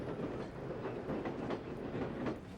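Freight trains carrying dirt on a railway track during the Panama Canal construction, a continuous rumble with rhythmic clickety-clack of wheels over rail joints, close and steady with no voices.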